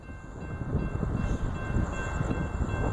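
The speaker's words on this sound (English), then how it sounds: "It's not very often here in Largo, Florida to catch a train at nighttime." A CSX freight train rumbles past at night in Largo, Florida, a continuous low, rattling drone of wheels and cars on track with a faint high tone above, steady and moderately loud throughout.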